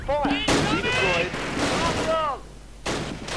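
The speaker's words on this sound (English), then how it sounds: "Mortar shooting? And some other shootouts." Mortar fire and gunfire in the WWII strategy game Close Combat: Last Stand Arnhem crack out as sharp shots and booming blasts over a battle din, with whistling rounds arcing overhead and someone talking through it.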